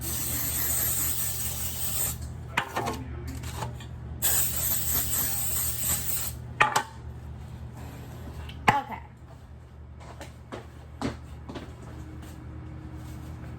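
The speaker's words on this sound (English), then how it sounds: "the next thing we're gonna need to do is spray while the oven is heating up" Several bursts of hissing cooking spray onto cake pans, close and loud, separated by quiet gaps with light clatter and handling noises between them.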